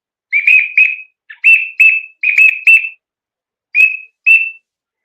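A pintail duck call whistle: a series of short, sharp, high whistled peeps in irregular bursts, loud and close, alone against silence.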